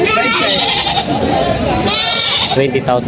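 Goats bleat repeatedly at a busy livestock market in Padre Garcia, Batangas, several nearby calls rising over a crowd, while people talk throughout.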